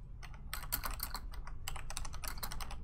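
Rapid clicking keystrokes on a computer keyboard, typing a chat message during a Star Wars: The Old Republic PvP session, steady and close with brief pauses, no talking.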